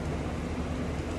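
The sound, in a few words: fans and house air conditioner running outside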